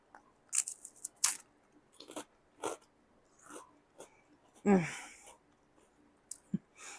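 Freeze-dried pickled beet chips crunch in scattered, crisp bites up close, with a few louder snaps and pauses between chews, and a short breathy sound partway through.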